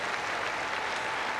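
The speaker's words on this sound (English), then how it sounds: "receiving the applause of so many fans around this court" A crowd applauds at the Stella tennis tournament for a departing veteran player, a dense, even wash of clapping that fills the brief moment without a break.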